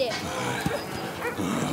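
A dog barks sharply once in a Russian war drama film, a short yelp-like bark amid ongoing overlapping speech and outdoor scene noise.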